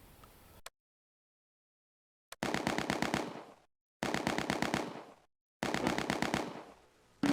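Machine gun fire in the Close Combat: A Bridge Too Far war game, set at the Arnhem west approach, comes in three sharp rapid-fire bursts separated by silent gaps. The rhythmic rattling is loud and close.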